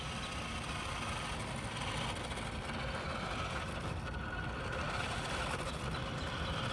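A restored 1986 Nikko Ferrari Testarossa 1/10 scale RC car makes slow passes, giving a steady, continuous motor whir and rolling noise at an even level with no talking.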